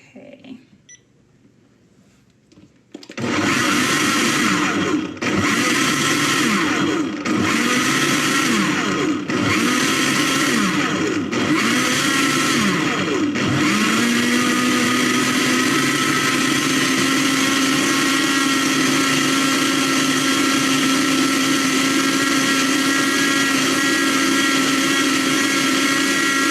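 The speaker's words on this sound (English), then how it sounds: "So my blender leaks a little bit" A kitchen blender starts abruptly after a quiet moment and runs loudly and continuously up close, pulsing in short bursts at first before settling into a steady high-speed whir.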